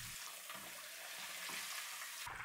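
A whole chicken deep-frying in hot oil, Korean market style, gives a steady, fairly faint bubbling sizzle that holds evenly throughout with no voices.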